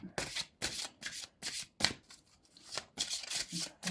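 Tarot cards are shuffled and drawn in a run of about eight crisp riffling bursts with short gaps between them, close and fairly quiet, with no talk over them.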